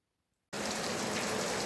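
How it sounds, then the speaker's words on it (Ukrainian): Steady rain begins suddenly and pours on a farm work area where a pumpkin weeder built from a cultivator is being made, a dense, loud hiss with no voices. "Прогнав мене дощ від роботи."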